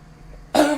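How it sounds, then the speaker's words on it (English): A single sharp cough bursts out suddenly near the mic after a stretch of quiet room hum, loud and close during a livestreamed game speedrun. "Got a bad cough, it seems."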